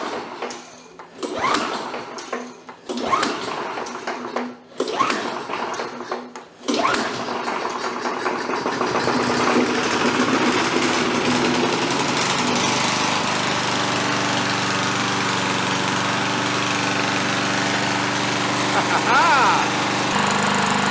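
Murray push mower with a Tecumseh engine, long idle, cranked with a few short pulls that sputter, then catches and runs steadily at a loud, constant drone, with people talking briefly during the cranking.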